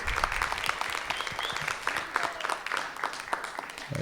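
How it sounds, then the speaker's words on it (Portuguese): Scattered audience clapping at a panel discussion on decolonized audiovisual distribution, fairly quiet and uneven, with a few sharper individual claps over a low room murmur. "Uma salva de palmas."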